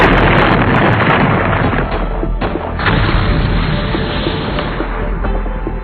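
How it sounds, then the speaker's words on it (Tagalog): Heavy, rumbling animated explosions and booms roll one into another, loud and chaotic like distant battle explosions, with a continuous roar underneath. "Sa mga pagsabog na naririnig natin, parang may nagaganap na gyera."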